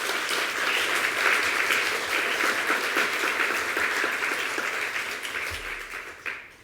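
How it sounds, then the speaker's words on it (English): A round of applause from the audience at an entrepreneur summit held at the New York Stock Exchange, steady and full at first, then gradually fading toward the end. "can we have a round of applause for them?"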